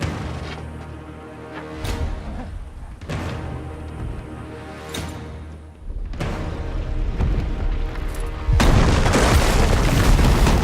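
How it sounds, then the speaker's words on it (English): Deep booming blasts as a city gate in a fantasy battle scene is destroyed by dragon fire, several heavy hits spaced a couple of seconds apart, then a sustained loud roaring rumble, no speech. "It's covered by 8 cameras, one explosion over all of these camera views."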